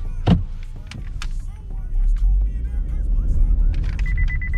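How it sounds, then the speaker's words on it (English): A 2022 Chevy Equinox LT's proximity sensor beeping starts up near the end as it nears another car, a rapid steady series of tones over engine hum and outdoor noise. "When I get close to this car, it's gonna start beeping."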